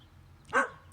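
A dog in Colorado gives a single short bark, clear but not very close, against a quiet outdoor background.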